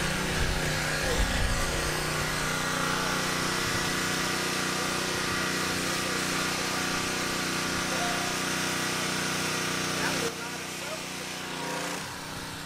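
Harbor Freight electric pressure washer spraying a fence, a loud continuous motor drone with rushing water spray that drops in level near the end, with voices talking over it.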